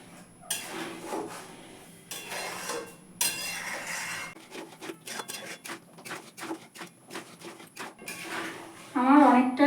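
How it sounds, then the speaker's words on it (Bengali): Homemade tomato ketchup is stirred continuously in a pan over low gas, a ladle scraping and knocking against the pan in quick, repeated strokes up close while a person talks. "গ্যাসটাকে একদম লোতে রেখে অনবরত নাড়তে থাকবো"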